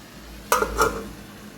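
Lid lifted off a pan of star gooseberry pickle in a home kitchen, giving two quick metallic clanks about a third of a second apart, close and fairly loud, with no talking.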